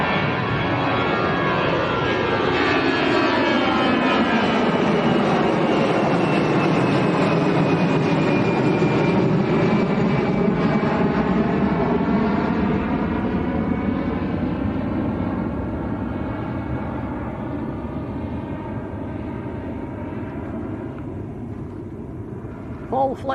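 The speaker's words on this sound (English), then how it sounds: "Eurowings just getting airborne. Not Eurowings, Discover Airlines" A Discover Airlines jet takes off from Lanzarote Arrecife Airport with a loud, sweeping engine roar that swells and then slowly fades as the aircraft climbs away.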